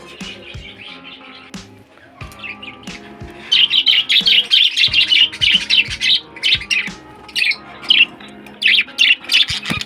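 Caged budgerigars squawk and chirp in rapid, loud bursts that grow denser and more insistent partway through, with scattered clicks and cage knocks underneath and no talking.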